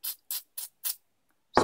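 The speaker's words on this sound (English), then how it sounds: "Spray through the holes." Four short, sharp sprays of alcohol from a spray bottle hit a stencil used for surface mount electronics assembly, evenly spaced and close, followed by a brief louder rustle.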